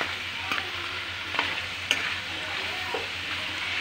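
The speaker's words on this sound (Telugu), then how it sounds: "మెంతం కూర మనకి నూనెలో వేగుతుంటే మంచి స్మెల్ వస్తుంది" Fenugreek leaves and a little coriander frying in hot oil give a steady close sizzle, with a few sharp scrapes and taps as the greens are stirred.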